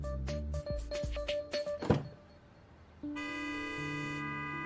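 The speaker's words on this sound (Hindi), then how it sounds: "अब बोल नहीं सकती तो ये हॉर्न बजा के गुस्सा दिखाएगी।" A car horn honks in a series of short bursts, followed by a thud and then one long sustained blast.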